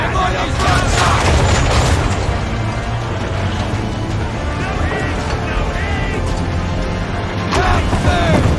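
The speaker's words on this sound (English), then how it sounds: "Fire broadside!" Ship cannons fire a broadside in Assassin's Creed III, a thick, continuous roar of booming shots and rumbling battle noise filling the scene loudly from start to finish.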